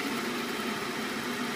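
A machine motor driven by a VFD gives a steady, loud whirring hum throughout, with no clear change in pitch in this brief stretch.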